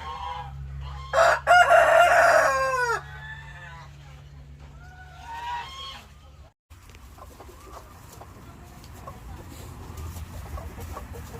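A bantam rooster crows loudly nearby, followed by softer clucking from bantam chickens, with a steady low hum underneath and quieter farmyard noise later.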